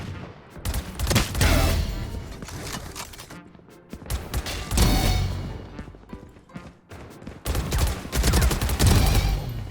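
Rapid automatic gunfire from the Phantom rifle in a video game, heard as repeated loud, dense bursts of shots with brief pauses between volleys and no talking.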